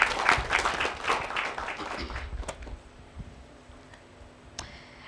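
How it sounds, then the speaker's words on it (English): Audience applause at a youth debate event in Kenya, a burst of clapping that is loudest at the start and thins out over a few seconds, with scattered claps lingering near the end. "A round of applause."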